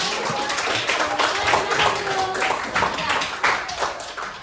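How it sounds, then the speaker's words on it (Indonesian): A classroom claps for a student, a close cluster of hands in a quick uneven patter lasting several seconds, with a voice faintly heard beneath it. "tepuk tangan buat kamu"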